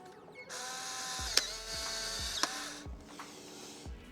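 A Polaroid I-2 instant camera clicks sharply as the shutter fires at 1/15 second, followed by a steady motorized whir as the print is pushed out, then a few faint clicks.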